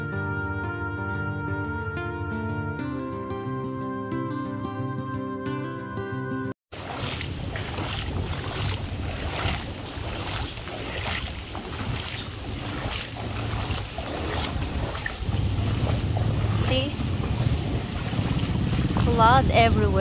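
Heavy rain falls outside during flooding, a steady rushing wash mixed with wind buffeting the microphone, following a short stretch of music, with a person talking over it.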